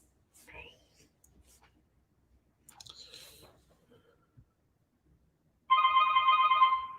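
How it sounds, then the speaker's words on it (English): An incoming call from Symbl.ai rings a telephone, a steady electronic ringtone that starts after a few seconds of near silence with soft mouth noises and continues loud and alone to the end. "it looks like Symbl.ai is calling my telephone"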